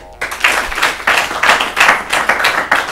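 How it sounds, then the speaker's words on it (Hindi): Studio audience on an Urdu-language literary quiz programme claps loudly and rhythmically, a close, energetic burst of hand claps with no speech. "हमारे लिए तालियां।"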